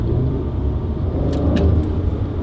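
A Mercedes C400 4MATIC engine in Sport Plus mode revs under acceleration, heard from the cabin as a loud, steady, deep drone that continues throughout.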